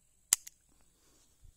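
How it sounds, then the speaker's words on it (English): A revolver fires cowboy loads at a shooting range: one sharp close report, a quick softer follow-up crack, then near silence with a faint low thump at the end. "Shooting our guns, shooting the guns."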